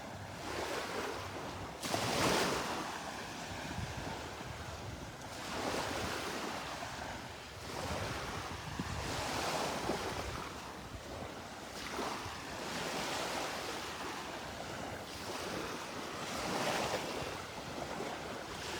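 Ocean waves breaking on Delnor-Wiggins beach, a steady wash of surf rising and falling in repeated swells, with some wind rumble on the microphone.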